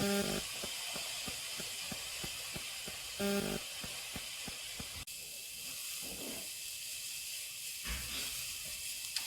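Chopped onions for a beef stew cook in a pot with a faint, steady hiss. A run of soft regular ticks comes early on. The sound is quiet and close, with no talking.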